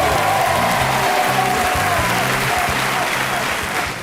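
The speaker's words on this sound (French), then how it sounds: "Les applaudissements de toutes vos écoles et tous les supporters." Applause from school groups and supporters in a TV studio, dense and loud crowd clapping that fills the room over background music, easing off slightly at the end.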